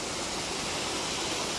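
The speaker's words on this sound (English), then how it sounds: "So there is another waterfalls here also." A waterfall in a scenic spot near Valencia, Negros Oriental pours in a steady, broadband rush, loud and continuous with no voices over it.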